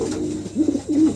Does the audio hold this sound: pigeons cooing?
yes